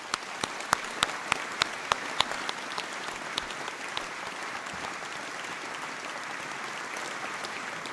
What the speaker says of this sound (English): deserve a quick round of applause now, I think.